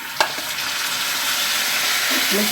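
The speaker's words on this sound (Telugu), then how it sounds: "పోపు ఇలా ఎర్రగా వేపుకోవాలి" Spices tempering in hot oil in a pan for a mustard-flavoured jackfruit curry, a steady close sizzle with a brief clatter near the start and no talking.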